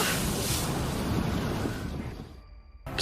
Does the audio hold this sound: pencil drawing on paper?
no